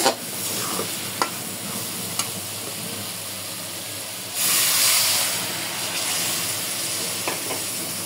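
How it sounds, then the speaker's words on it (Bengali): Kochur loti, already fried, is stirred with spices in a pan, giving a steady frying sizzle and hiss with occasional spatula knocks, and a louder burst of steam midway. "একটু লাড়াচাড়া করে মশলার সাথে ঝোল দিয়ে দেবো সিদ্ধ হওয়ার জন্য"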